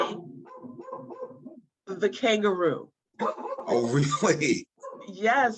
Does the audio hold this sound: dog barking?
yes